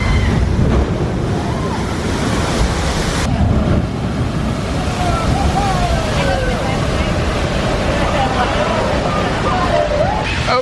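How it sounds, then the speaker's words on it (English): Rushing water and splashing from a log flume raft plunging down Ripsaw Falls at Universal's Islands of Adventure, a broad roar with wind buffeting and faint voices underneath. "and making that splash"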